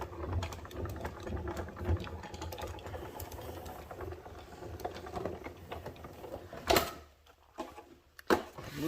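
A die cutting machine cranked by hand to emboss a die cut, giving a low, continuous grinding rumble with small clicks, followed near the end by a couple of sharp clunks and handling noises.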